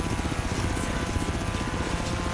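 Helicopter flying in the video game Forza Horizon 3, a steady rapid rotor chop and engine buzz, continuous and even in level with no talk.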